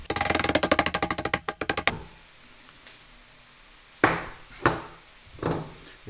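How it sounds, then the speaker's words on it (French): A garlic clove crushed in a kitchen: a fast run of about twenty sharp knocks on a hard wooden surface, then a pause and three separate heavier thuds, close and loud. "Alors l'ail, tu l'écrases comme ça."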